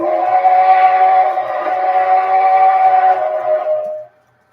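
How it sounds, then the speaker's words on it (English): Locomotive 2925's whistle from a video game sounds as one long, loud, steady steam-style blast that holds for about four seconds before cutting off sharply, with no voices. "friggin' listen to 2925's whistle"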